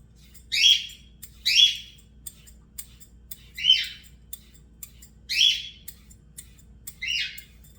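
A pet bird squawks indoors, giving five or six loud, harsh calls at roughly one-second to two-second intervals, close by with a quiet room hum underneath and no talking.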